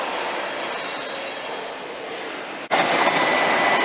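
A long Thameslink train rumbles past at Farringdon station with a steady broadband roar that swells abruptly louder near the end as the carriages go by close at hand, with no talking.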